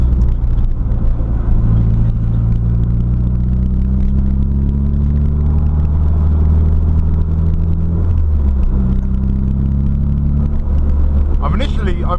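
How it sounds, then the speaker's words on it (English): Nissan Silvia PS13 with an SR20DET engine driving on the road, a steady loud engine and road rumble with a faint tonal whine from the differential, continuous throughout, with a shift in pitch near the end. "it is a whine that the diff makes"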